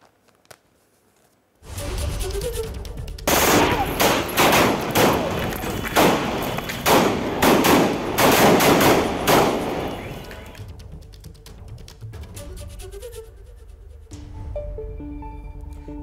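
Several sharp gunshots from three shooters crack in rapid succession after a short silence, loud and close, followed by a quieter jumble of shouting and commotion.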